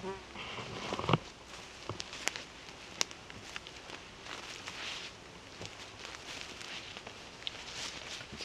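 Flies and other insects buzz close around a tent at a lakeside camp by the Thüringer Fjord, thin droning passes drifting near and away over a quiet outdoor background, with a few soft footstep-like knocks.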